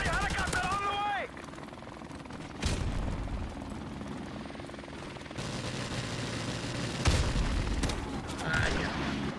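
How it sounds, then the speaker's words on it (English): A friendly helicopter in Call of Duty Modern Warfare Remastered hardcore multiplayer, its rotor droning under distant gunfire and booming explosions while a player talks over it. "Friendly helicopter on the way."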